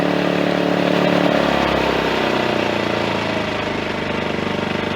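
A Champion 2000-watt inverter generator runs as it warms up, its engine droning steadily and close, with the low pitch settling lower partway through.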